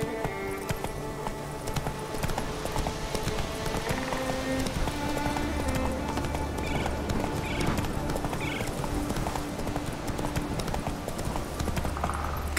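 Galloping hooves of the horse Roach in The Witcher 3 pound in a quick, steady clip-clop rhythm, close and continuous, with a brief man's call over the footfalls.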